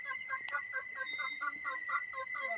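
A chicken clucks in a quick repeated series of short calls, close and clear over a constant high-pitched insect-like hiss in the background, with no talking.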